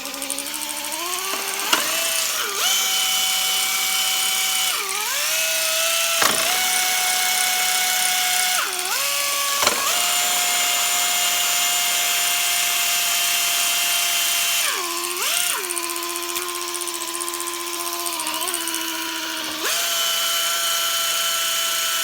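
An air tool whines in repeated bursts while working on a Honda lawn mower carburetor, its pitch dropping and rising as it spins down and revs up again, loud and close with no talking.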